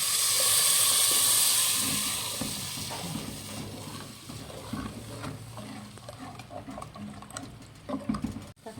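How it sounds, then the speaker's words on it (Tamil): Ground tomato hits a hot pan for pepper rasam, bursting into a loud close hiss and sizzle that gradually settles into softer bubbling and stirring scrapes. "நம்ம அரைச்சி வச்ச தக்காளி ஊற்றுறோம்"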